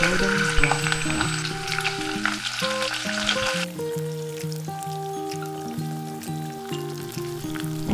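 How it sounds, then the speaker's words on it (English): Onion chunks and spring onion roots fry slowly over very low heat in a pan, giving a steady, soft sizzle beneath background music throughout. "Use very low heat to slowly fry the onion chunks and spring onions root"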